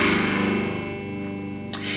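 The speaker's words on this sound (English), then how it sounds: "You can turn the gain up a little more distortion." An electric guitar with the gain turned up, recorded without an amplifier, rings out in sustained distorted chords that fade slowly, with a brief scrape near the end.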